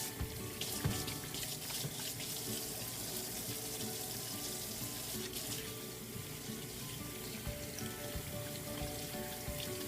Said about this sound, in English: wash your hands one more time because you just handled raw eggs